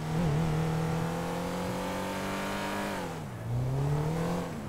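A car in the GTA 5 video game drives off, its engine droning steadily and rising in pitch as it accelerates, dipping briefly around a gear change before climbing again, loud and close with no voices.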